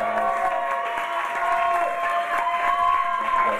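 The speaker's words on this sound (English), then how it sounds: "give him a nice round of applause and a warm welcome back to Highland Grounds" Audience applause and crowd noise welcome a performer back to the stage at a 2001 concert at Highland Grounds, a steady dense patter of clapping sustained at an even level throughout with a few scattered voices.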